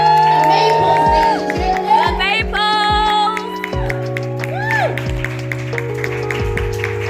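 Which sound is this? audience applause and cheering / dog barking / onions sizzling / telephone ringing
audience applause and cheering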